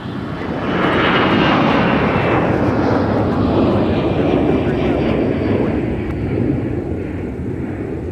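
A Delta airliner roars down the runway on takeoff at Minneapolis–St. Paul airport, a loud, sustained broadband jet rumble building early and holding steady, with radio chatter faintly mixed in.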